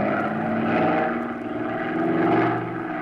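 A propeller airplane engine drones steadily in flight, a loud continuous hum that swells and eases slightly, with no voices over it.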